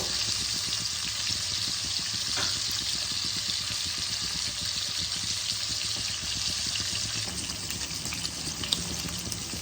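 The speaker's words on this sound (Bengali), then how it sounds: "মাছগুলোকে আমি দেখো উল্টে পাল্টে ভালো করে ভেজে নেব।" Pieces of Katla fish fry in hot oil in a pan, giving a steady, even sizzle and crackle that fills the whole stretch at constant loudness, with faint small clicks and no voices.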